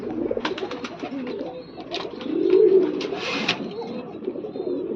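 A mother pigeon with her chicks coos in low, throaty swells close by, with chirps and someone speaking softly over the birds.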